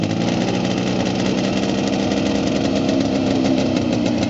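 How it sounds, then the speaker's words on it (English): Velorex small three-wheeled car engine restarted to run in reverse rotation, a steady buzzy idling putter held close and loud throughout with no talk. "It's where you have to stop the engine and restart it in a different rotation."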